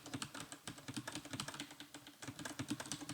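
Keys on a computer keyboard tap quickly in an irregular stream while cursor keys are pressed to move items in an Excel spreadsheet, with no talk.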